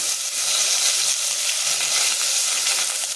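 Curry leaves, cumin and pepper sizzle loudly and continuously in hot oil, a bright crackling hiss with no voices.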